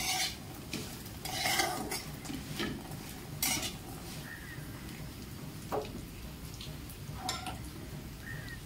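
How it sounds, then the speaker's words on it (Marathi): Dry fruits are stirred into a jaggery mixture in a pan, a metal spoon scraping and clinking against the pan in irregular strokes over a soft, faint sizzle. "मी आता हे ड्रायफ्रुट्स पण त्या गुळवणी मिक्स करते"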